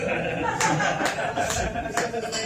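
An audience at a comedy show claps in a few scattered, irregular bursts, fairly quiet and loose, with a murmur of voices underneath.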